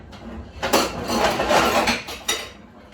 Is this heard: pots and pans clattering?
yes